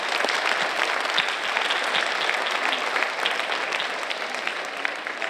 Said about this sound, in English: Leaders, please give your parents and families and friends a much-deserved round of applause